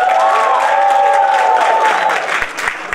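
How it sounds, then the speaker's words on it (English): Audience at a send-off party breaking into sustained applause and some cheering, loud and close, with a tonal ringing or voice-like sound running through the crowd noise before it starts to thin. "Give her a round of applause."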